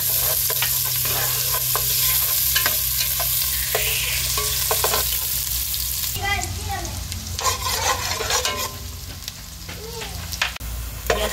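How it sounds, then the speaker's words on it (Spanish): Chopped onion hits hot oil in a pot and sizzles loudly and steadily, with a sharper burst of frying and spatula stirring about halfway through. Close and continuous, no one speaking. "Ahora vamos a echar la cebolla"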